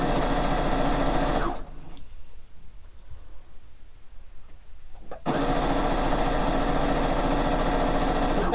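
A sewing machine stitches quilt pieces with a steady, close, rapid mechanical whir, stopping for a few seconds of near silence in the middle before starting up again, with no voices heard.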